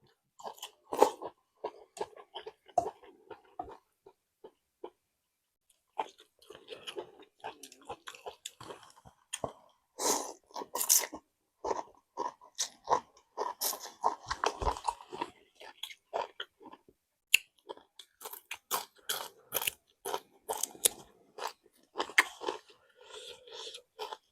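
Close, crisp bites and chewing of khanom jeen rice noodles with fermented fish sauce, with repeated crunches, slurps and wet mouth sounds in irregular bursts and short pauses between mouthfuls, no talking.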